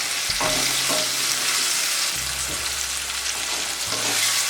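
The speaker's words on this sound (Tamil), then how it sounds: "நம்ம போட்ட பூண்டு வெங்காயம் நல்லா வதங்கியாச்சு இப்போ நம்ம தக்காளி சேர்த்துக்கலாம்" Garlic, onion and tomato sautéing in a pan for a karunai kizhangu (elephant yam) dish, a loud continuous sizzle close up with a few brief scraping stirs, no voices.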